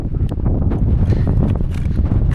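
Strong wind buffeting on a mountain ledge, a loud rough roar with gusty low rumbling against the microphone and scattered crunches and thumps, continuous throughout with no voices.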